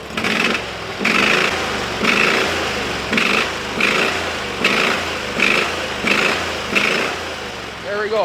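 A Briggs & Stratton 20HP V-twin engine runs on a Sears loader, a loud steady drone with a regular pulsing rise and fall about once a second, close by, with a brief spoken remark over it.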